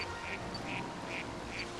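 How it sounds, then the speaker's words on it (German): Ducks quacking as ambient wildlife in the New Pokémon Snap video game, four evenly spaced quacks repeating in a steady rhythm over a constant soft background bed of game ambience. "Ja, da wirst du wach, ne? Wenn du Vögel hörst."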